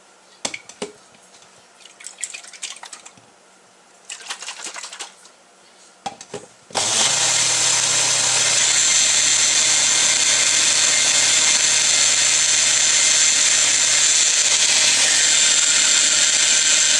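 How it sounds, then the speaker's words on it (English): Magic Bullet blender mixing a DIY hair moisture spray: after a few brief clicks and handling noises, the motor starts abruptly into a loud, steady whirring buzz that runs unbroken to the end, no talking. "now I'm going to use my magic bullet to mix this"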